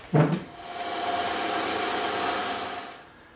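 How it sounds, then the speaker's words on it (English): A bandsaw blade splits a wooden dowel lengthwise: a short knock at the start, then about three seconds of a steady, close whining cut with a faint high tone, ending as the cut finishes. "So now when we send this through the bandsaw, our dowel won't roll on us. So let's go split that in half."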